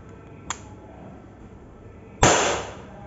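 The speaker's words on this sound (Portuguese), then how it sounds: "Vou dar uns disparos aqui para vocês acompanharem aí." A sharp single crack from a CO2 air pistol (W119, 4.5 mm) firing a steel BB, loud and close, with a faint click shortly before it.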